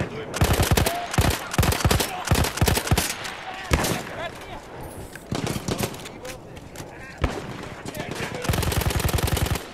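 Machine gun fire in the World War I shooter Battlefield 1, loud rapid bursts of automatic fire separated by short pauses, with other gunfire and battle noise around and a voice speaking at times.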